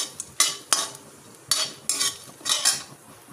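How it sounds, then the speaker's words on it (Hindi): Whole spices, cumin seeds and a bay leaf, being lightly sautéed in a pan for a Shahi Paneer, heard as a series of sharp metallic spoon scrapes and clinks against the pan with faint sizzling between them, close and fairly loud. "इसको अच्छे से ये भी थोड़ा सा हल्का हल्का सोटी कर लेते हैं"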